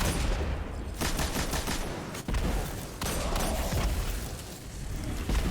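Heavy gunfire from Destiny 2 rattles in dense, rapid bursts during a fight in the Empty Tank lost sector, loud and continuous with brief gaps between volleys.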